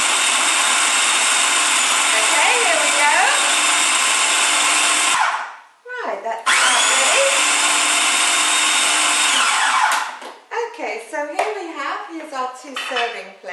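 A food processor with its lid on whirs loudly and steadily through a dough mixture for apple and blackberry custard torte, stops briefly, runs again, then slows to uneven knocking as the dough forms a ball.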